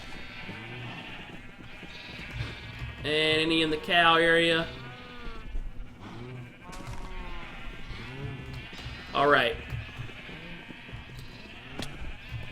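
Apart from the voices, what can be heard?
sheep bleating in the video game Minecraft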